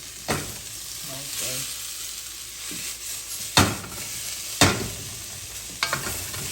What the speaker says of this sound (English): We're just giving it a little stir.